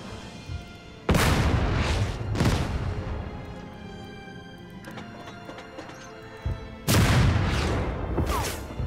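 Tank guns in the strategy game Total Tank Generals, set in Rommel's Operation Crusader campaign, fire two heavy booming blasts close together, then a quieter lull before two more loud, echoing shots.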